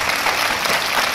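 Studio audience at a comedy stage show giving the comedians a brief, steady burst of clapping, even and moderately loud with no voices.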